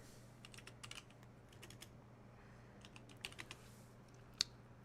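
Typing on a computer keyboard, very quiet clusters of light key clicks in short irregular bursts with pauses, over a low steady background hum.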